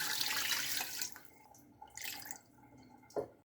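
Water running from a tap and splashing into a pot of beef with whole peppercorns and bay leaves, a steady pour that stops and restarts in short bursts before cutting off.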